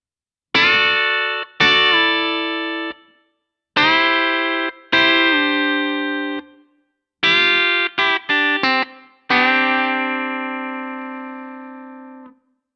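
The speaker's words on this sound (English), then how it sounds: "So I'm going to play that lick really slowly so you can see how it all works now." Slow country guitar lick with pedal steel-style string bends, played alone as six separate phrases, each a ringing note or chord that swells, bends in pitch and decays, ending in a long sustained chord.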